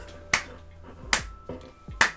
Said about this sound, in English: Okay, I'm gonna clap now.